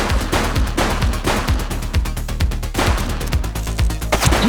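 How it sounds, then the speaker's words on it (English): Gunfire in The Precinct, a police crime video game: a dense run of loud, sharp shots in quick bursts, nearly continuous over a driving background score. "Shots fired!"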